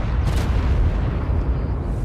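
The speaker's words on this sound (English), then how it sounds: "I can see where the explosions are coming from." Explosions in the ARK Primal Nemesis video game make a steady, heavy low rumble of booms that runs through the whole stretch with no clear gaps and no talk.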